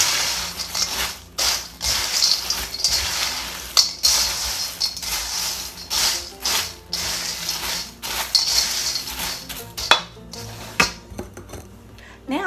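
Homemade Chex Mix with deluxe mixed nuts being stirred in a bowl, steady rattling and scraping of pieces against the bowl with brief pauses, close and fairly loud, with no talking.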